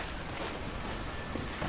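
Telephone ringing inside a video game, a faint electronic tone repeating thinly over a soft background hiss, heard at a distance, with no voices.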